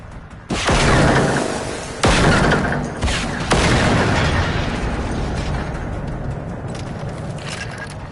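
A tank shell slams home in a video game with a double direct hit: two heavy booming blasts land a second or so apart, followed by more bangs and a long rumbling roar that slowly fades.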